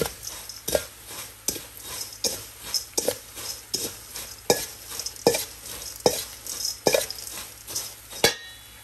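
Oyster dressing ingredients being mixed in a bowl, with a regular series of scraping and clinking utensil strokes about every half second over a low background hum.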